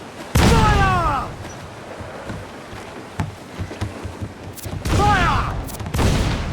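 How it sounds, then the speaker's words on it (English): Cannon volleys roar out in a naval battle in Assassin's Creed IV Black Flag, a loud burst of shots near the start and another around five seconds, with scattered reports and rumbling in between. "He fires many volleys!"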